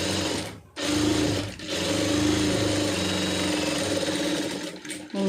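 Sewing machine running steadily as it stitches two layers of fabric together with white thread, a dense mechanical whir with brief pauses between bursts, close and loud.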